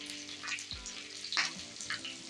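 White sesame seeds are added to hot tempering oil for Gujarati khandvi after the stove is switched off, giving a soft, steady sizzle with faint crackles and a brief clink, heard close and quiet with no talking.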